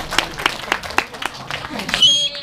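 Middle school students gathered for a history lecture in Korea give a welcoming round of applause, a steady series of fairly faint, evenly spaced claps in a hall, with a voice joining at the end.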